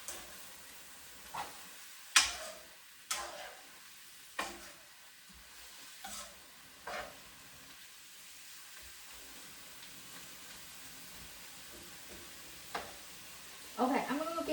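Beef and celery stir-fry in a pan with soft, continuous sizzling, punctuated by several sharp clacks and scrapes of stirring spaced a few seconds apart, with a brief louder stirring burst near the end.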